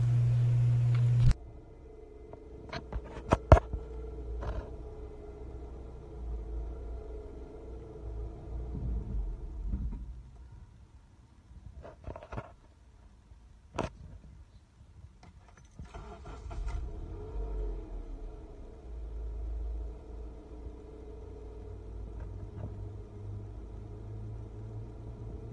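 A 2011 Honda Civic engine hums briefly, then abruptly stalls and cuts out due to a failed A/C compressor, leaving a low rumble with scattered clicks and knocks in a fairly quiet space.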